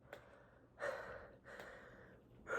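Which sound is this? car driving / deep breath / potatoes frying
deep breath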